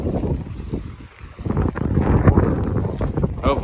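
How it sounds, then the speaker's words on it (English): Gusty wind buffets the microphone while kayaks are launched at Pointe Aux Chene, Louisiana, a loud, rough rumble that rises and falls, with a brief lull before swelling again. "A little bit windy today."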